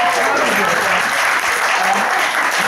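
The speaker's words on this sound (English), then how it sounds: "if everyone could just clap" Wedding guests applaud during the son of the bride's speech, a loud, steady wash of clapping that runs throughout, with voices mixed in.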